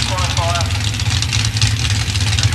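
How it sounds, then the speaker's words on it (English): A 1989 drag racing car sits at the start line with its front wheels staged in the beam, its engine held at steady high revs in a loud, continuous drone while a commentator talks over it. "Gets the front wheels into the beam, builds up the revs in the engine, waiting for the green light."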